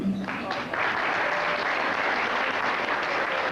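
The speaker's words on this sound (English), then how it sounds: "So with a great round of applause," Steady round of applause from an audience at an award presentation, a dense even wash of clapping filling the room, fairly soft and continuous throughout.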